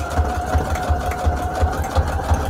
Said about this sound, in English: And then we're gonna back stitch